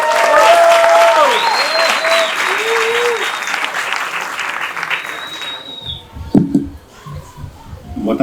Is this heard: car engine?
no